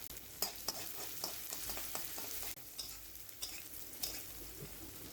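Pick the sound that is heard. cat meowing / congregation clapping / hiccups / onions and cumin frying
onions and cumin frying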